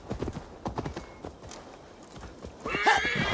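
A horse in the Assassin's Creed Valhalla video game clops along in uneven, moderately loud hoofbeats, then lets out a clear neigh near the end over a rising background.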